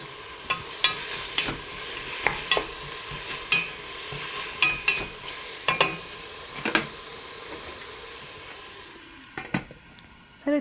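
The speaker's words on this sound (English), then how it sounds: "Let it saute, lowering a little bit." Cabbage and other vegetables sauté in a pan over lowered heat, a soft continuous sizzle broken by repeated sharp scrapes and clicks of stirring.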